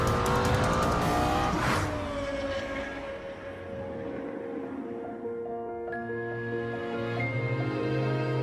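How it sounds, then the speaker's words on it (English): Lexus LFA with its V10 engine, a high-revving production supercar, sweeps through a loud rising and falling rev near the start, then settles into a steady tone with a second engine note climbing late, all without speech. "Highest revving V10 engine in a production car."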